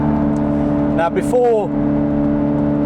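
A Ferrari 355 fitted with a Tubi and Capristo exhaust runs steadily throughout with a rich, continuous multi-tone exhaust note. Someone talks over it in the middle, and the engine stays loud and near the whole time.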